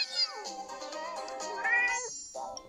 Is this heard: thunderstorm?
no